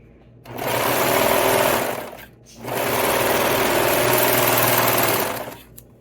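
Two long, loud bursts of a sewing machine stitching a beanie seam, close up, with a short pause between runs and no talk.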